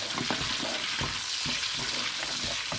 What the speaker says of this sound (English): the whole spices are nicely fried in this